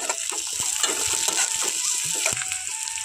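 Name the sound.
slit green chillies frying in a pan for bitter gourd fry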